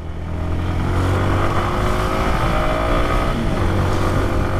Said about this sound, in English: The engine is similar to that of Gixxer or Gixxer SF, and it is tuned in a different manner.